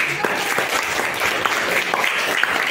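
Students in a classroom lesson clap together, a loud, busy patter of hands with a few sharper individual claps standing out across the whole stretch.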